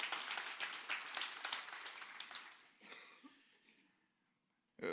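Audience applause at a church birthday Sunday service, a dense spread of clapping that is loud at first, thins out over several seconds and fades to near silence.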